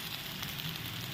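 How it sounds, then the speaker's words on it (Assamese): Ginger and garlic fry in a pan, giving a steady, dense sizzle that stays close and loud without a break. "এতিয়া মই এইদৰে আদা, নহৰু কেঁচা গোন্ধ নোযোৱালৈকে কিছু সময় ভাজি থাকিম।"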